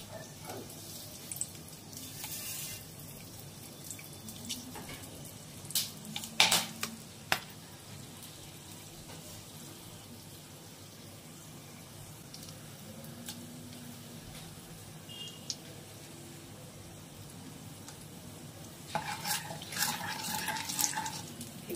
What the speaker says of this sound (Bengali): ফোড়নটা ভাজা ভাজা হয়েছে, একটা সুগন্ধ বেরোচ্ছে